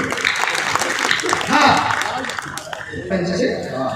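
An audience at an evening devotional cultural event on a municipal council ground in Chandla claps in a ragged burst that tapers off, heard under a talking voice.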